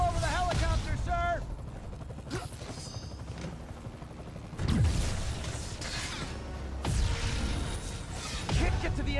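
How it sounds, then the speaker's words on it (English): A loud helicopter rotor thrums steadily amid effects in Marvel's Spider-Man on PS4, with whooshes, mechanical creaks and bursts of gunfire, while a voice speaks over it. "I need to disable the helicopter's engines."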